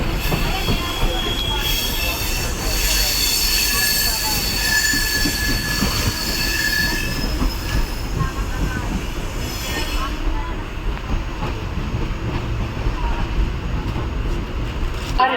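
A train pulls into an Indian railway station, with loud continuous rumble and wheel screech throughout and metallic squealing, the noise easing slightly toward the end; faint voices sit beneath it.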